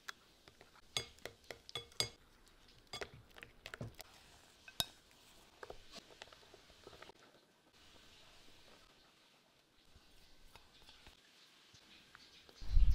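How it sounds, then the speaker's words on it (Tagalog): A spoon or whisk clinks and taps against the side of a bowl as banana bread batter is stirred, a quiet series of sharp irregular knocks with softer scraping between them. "Haluing mabuti bago natin ilagay yung dry ingredients."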